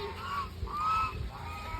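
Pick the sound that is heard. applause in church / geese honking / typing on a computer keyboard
geese honking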